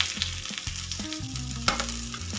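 Onion, garlic and spices, with sesame seeds, fry together in oil for a sprouted moong dish, a close steady sizzle broken by scraping stirs of a spoon against the pan, with no talking.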